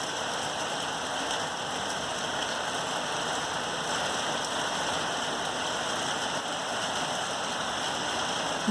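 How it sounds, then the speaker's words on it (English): A heavy rain downpour on a cold, stormy day in northern Utah, a dense, steady hiss of rain that stays constant and fairly close throughout, with no voices. "so we're having a really good downpour"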